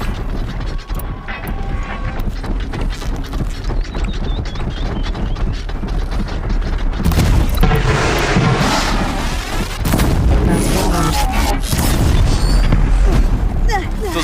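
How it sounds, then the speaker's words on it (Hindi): Dense video game combat in which enemies throw fire, corruption and grenades, heard as a loud, continuous mix of booms, bursts and mechanical clatter. The din runs throughout and grows heavier in the second half, with talk in the background. "ये करप्टर्स आग फेंकते हैं, करप्शन फेंकते हैं और ग्रेनेड भी फेंकते हैं।"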